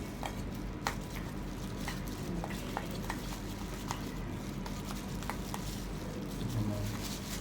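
Shredded chicken is stirred and mashed with mayonnaise into a sandwich filling, giving soft, faint, wet squishing and light scraping strokes at an irregular pace.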